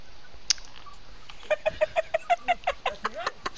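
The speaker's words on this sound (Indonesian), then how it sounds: "Anjir ayam." A chicken or rooster gives a quick series of about a dozen rhythmic clucks, fairly close and clear, following an earlier short sharp note, with no talk over it.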